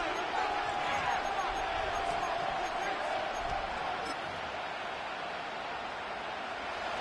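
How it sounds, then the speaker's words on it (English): Steady roar of a large stadium crowd in a football video game, a dense wash of noise holding at a constant level with faint thumps beneath it. "this crowd making it hard to hear"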